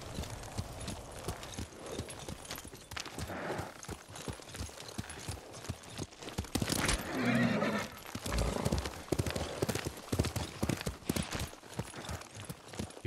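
In the video game Ghost of Tsushima, hooves clop in an uneven walking rhythm, and a horse lets out a loud whinny midway before the hoofbeats continue.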